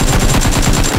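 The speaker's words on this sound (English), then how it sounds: "He's shooting another guy." Rapid automatic gunfire in the PUBG battle royale game, a loud, close burst of fast repeated shots filling the whole moment without any talking.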